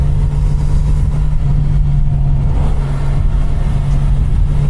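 Motorcycle engine on a winding mountain road, Route 199 near Patrick Creek in California, droning loud and steady with a strong low hum and wind rush as the rider downshifts for tight bends.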